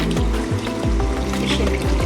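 Boiled moong dal poured into a pan holding fish head for a Bengali dal, a steady liquid pour and trickle that runs continuously and fairly loud, with no voices.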